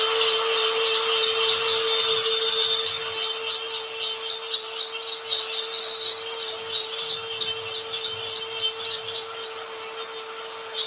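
A small tungsten carbide burr spinning at 30,000 RPM cuts into a workpiece with a steady high-pitched whine and a continuous gritty, rasping scrape, close and unbroken.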